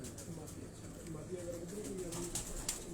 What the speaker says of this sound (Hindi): कमगर ब्रीड के ये कबूतर हैं।